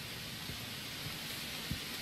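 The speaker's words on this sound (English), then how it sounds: "Now it's starting to rain." Steady rainfall beginning in the survival video game Unforgiving: A Northern Hymn, a constant broadband hiss with a few soft low thumps, heard alone at moderate level.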